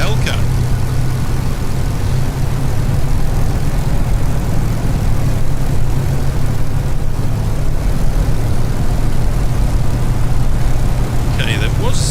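Hellcat propeller warbird droning steadily in a Microsoft flight simulator during a flight from Newcastle to RAF Lossiemouth, a loud continuous engine hum that never lets up.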